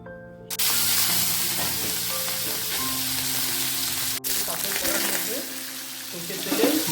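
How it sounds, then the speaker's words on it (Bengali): Cumin seeds hit hot mustard oil in a home kitchen while a rui fish curry with potatoes is being prepared, bursting into a loud, steady, close sizzle that holds throughout, with some stirring clatter toward the end. "সরষের তেলে জিরে ফোড়ন দেওয়ার পর"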